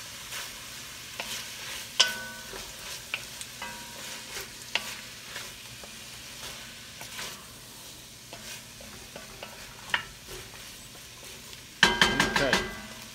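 Garlic and chopped vegetables for an old-school beef stew sizzle in a pot, a steady faint fry broken by sharp spoon clinks and stirring scrapes, with a louder clatter of stirring near the end.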